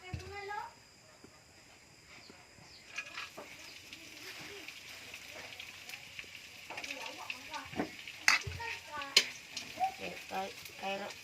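Small dried fish (bulad) frying in a pan, a steady faint sizzle with scattered pops and utensil scrapes close by, under a person talking.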